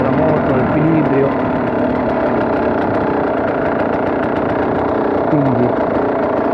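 A KTM 300 two-stroke enduro motorcycle idles close by with a loud, continuous rough burble, holding steady throughout with only slight rises in revs.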